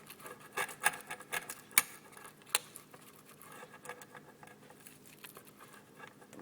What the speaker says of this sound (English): I'm going to go ahead and cut a slice so you can see what it looks like, and you can hear the crispiness